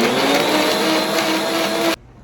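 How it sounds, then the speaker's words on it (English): A blender whirs steadily at high speed blending sea moss, loud and continuous, then cuts off abruptly near the end. "So the sea moss is in the blender."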